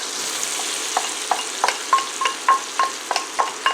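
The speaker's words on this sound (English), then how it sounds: "The butter is ready now for me to add my carrots and onions." Carrots and onions sauté in butter for a broccoli cheddar soup, a bright, steady sizzle broken by a regular series of sharp stirring scrapes, close and alone.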